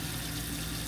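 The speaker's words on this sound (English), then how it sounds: "So that's the water pump, not connected to city water" RV water pump running in dry camp mode, not hooked to city water, with water flowing from a tap; a steady close hum with continuous rushing water through the whole short stretch.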